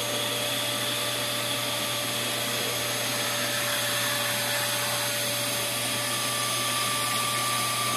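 Vacmaster 8-gallon 3-in-1 wet/dry shampoo vacuum extracting water from carpet, a steady loud motor whine with constant airflow roar and droning hum, unchanging throughout.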